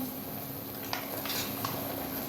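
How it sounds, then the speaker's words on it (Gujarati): Spice mix of coriander-cumin powder, turmeric and salt sizzling in hot oil, a steady hiss with a few faint stirring taps and scrapes. "આ બધો મસાલો આપણે તેલમાં નાખી દીધો"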